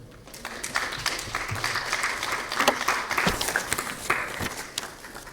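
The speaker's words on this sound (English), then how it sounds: "I think we can give him another round of applause" Audience at a lecture giving sustained applause after a presentation, steady clapping from many hands at moderate distance, rising and falling slightly over several seconds without speech.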